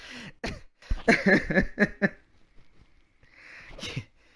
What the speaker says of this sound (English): Ursabet, you make me cough.